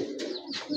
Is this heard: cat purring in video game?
no